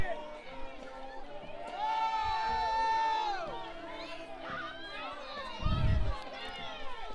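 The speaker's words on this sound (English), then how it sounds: "there are lots of angry noises coming from the Mount Ida crowd" A high school football crowd lets out jeers and shouts from the stands, loud mixed yelling that rises and falls with a brief heavy thump near the end, while a commentator talks throughout.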